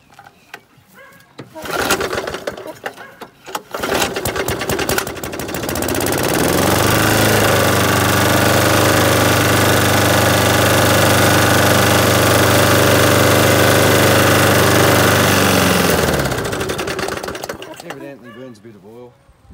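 A secondhand garage-sale lawn mower engine is cranked a few times, catches, and runs loud and steady for about ten seconds at close range before cutting off.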